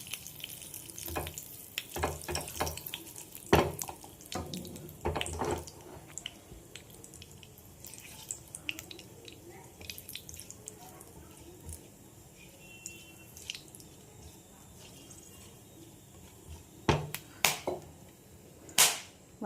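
Cumin and whole garam masala spices fry in hot oil in a pan for tempering during cooking of lemon paneer, a soft continuous sizzle broken by scattered sharp pops and clatters, some louder bursts near the end.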